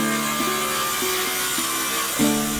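Steady, close rasping of a saw cutting through wooden battens for yurt lattices and rafters, with repeated strokes and a slight swell near the end.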